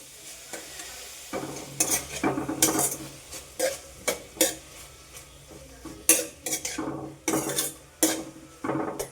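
Onion, ginger, green chilli and garlic sauté in hot oil for a Kerala masala curry, with a steady sizzle under repeated loud scrapes and knocks of a spoon stirring in the pan.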